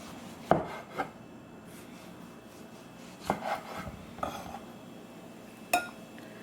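A knife slices a tomato on a cutting board, giving several soft, sharp taps and short rubbing strokes at irregular intervals, close and fairly quiet, with no talking.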